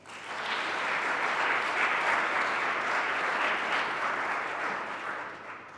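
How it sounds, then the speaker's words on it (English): Applause from an audience at a talk, a steady wash of many hands clapping that swells in quickly and tapers slightly near the end. "Please give them a round of applause."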